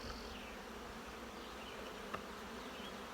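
Honeybees hum steadily around a nuc hive frame, a close, continuous droning buzz with faint wind in the background.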